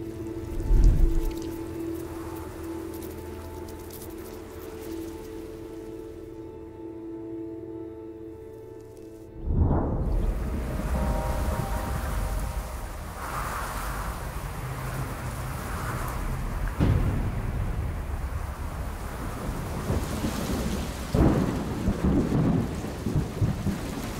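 Steady rain hisses over a low rumble of thunder, with a louder crack and rolling boom partway through as the downpour continues.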